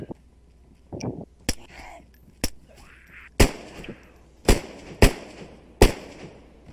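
Unsuppressed gunshots in DayZ, about seven sharp loud cracks spaced a second or so apart, each ringing briefly, with hushed voices murmuring between them.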